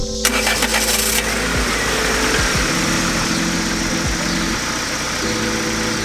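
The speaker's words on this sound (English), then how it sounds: "Let's go start this car and see if that was the noise." A turbocharged Honda Civic engine fires up with a brief starter crank, then settles into a loud, steady idle with a continuous mechanical hum and vibration close by.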